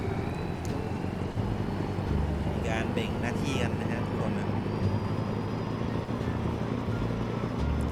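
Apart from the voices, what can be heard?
tractor engine driving in video game Farming Simulator 19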